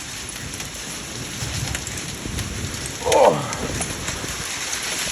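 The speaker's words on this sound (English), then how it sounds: "Look at the hail." Heavy rain and hail pound down steadily during a severe July thunderstorm with high winds, a dense close roar throughout, while a person gives a brief exclamation partway through.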